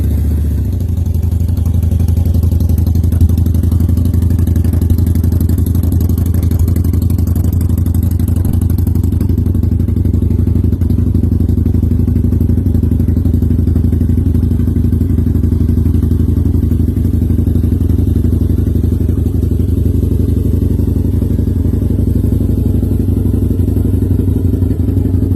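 A 2011 Harley-Davidson V-Rod motorcycle engine runs close and loud, holding a steady, low, throbbing idle for the whole stretch without any change in pace.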